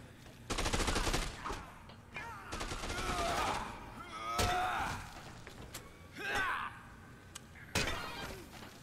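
Gunfire in Dead Rising 2: Case West comes in rapid automatic bursts, loud and near, broken by single sharp shots and short gaps, with faint voices in between.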